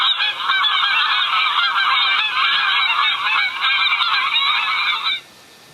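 A flock of geese honks in a dense, continuous chorus of overlapping calls, loud and steady for about five seconds before stopping abruptly, with no talking.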